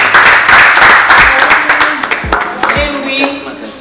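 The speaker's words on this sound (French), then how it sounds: "Applaudissez." Clapping from an audience at a graduation ceremony, a short burst of applause mixed with voices and room noise.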